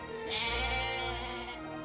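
A goat in the Minecraft Jurassicraft mod bleats with a steady, drawn-out wavering cry lasting most of the moment, close and fairly loud over a low background hum.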